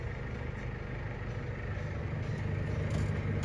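A combine harvester's engine runs steadily while the machine turns around with its header attached outdoors in a farm yard, making a faint, continuous low rumble with no talk.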